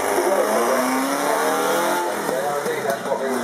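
Alfa Romeo cars drive on a race track, their engines revving and pitching up and down as they pass nearby, with talking over the engine sound.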